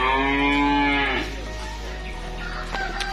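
A calf at a cattle dealer's yard in Kediri gives one long, loud, nearby moo that breaks off after about a second, leaving a noisy outdoor background.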